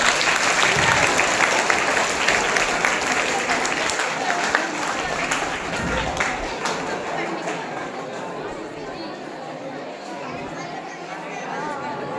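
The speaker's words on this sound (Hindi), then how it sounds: "आइए तालियां से इन बच्चों का स्वागत करें।" Audience applause at a school performance welcoming children about to sing, steady dense clapping for about twelve seconds, close and fairly loud, with some chatter mixed in.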